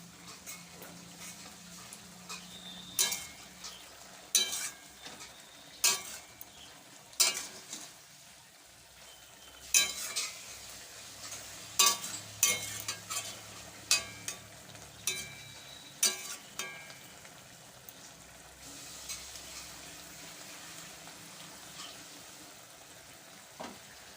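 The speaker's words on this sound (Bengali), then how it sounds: "এবার সরিষা বাটাকে কিছুক্ষণ ফুটতে দিচ্ছি।" Mustard paste with pointed gourd simmers in a pan. A soft, steady sizzle and bubbling runs throughout, broken by sharp clinks and scrapes of stirring that come in irregular bursts.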